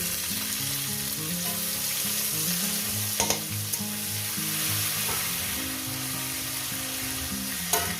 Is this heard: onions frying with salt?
yes